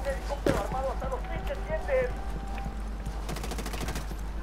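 Bursts of rapid gunfire crackle over background sounds in the co-op shooter video game Ghost Recon Wildlands, with a fast run of shots near the end; people talk over it.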